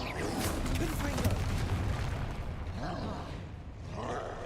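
A Confringo blasting spell in Hogwarts Legacy goes off as a loud booming explosion with a roaring rumble that fades out, and smaller crackling bursts follow.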